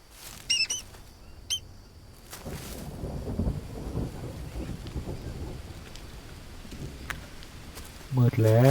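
Rain and thunder in the jungle survival game Green Hell: a steady wash of rainfall with low rumbling swells, under a few brief sharp chirping sounds at the start and end.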